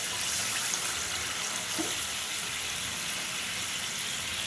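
Water poured steadily into a pot of aloo dum gravy with mung dal, a continuous even splashing rush that holds at constant loudness throughout.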